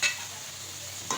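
Potato masala with whole garam masala and cumin frying for Sindhi potato biryani, a quiet, steady sizzle with a stir scrape at the start and end, alone.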